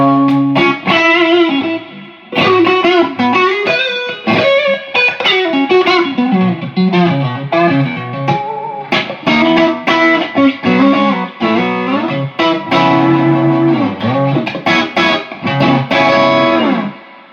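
An electric guitar played through an Ibanez TS Mini overdrive pedal and a Music Man HD-150 amp, with gritty, crunchy chords and bluesy single-note licks ringing out continuously.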